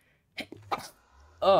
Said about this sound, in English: What was that sneeze?